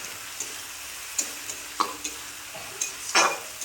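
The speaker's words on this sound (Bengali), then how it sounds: "আদা রসুন দেওয়ার পরে এটাকে বারবার নাড়তে হবে, এতে তলা লেগে যাবে।" Ginger and garlic are stirred in a frying pan, a soft sizzle broken by several scraping strokes of the spatula at uneven intervals, close by with no talking.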